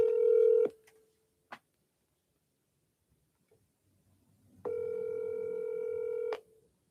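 Two long electronic ring tones on a phone line, separated by a few seconds of quiet with a faint click in between, heard through the receiver.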